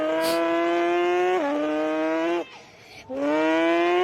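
A voice imitates a revving Kawasaki ZX10R superbike engine, a sustained buzzing tone that rises, dips and climbs again, pausing briefly before revving up once more.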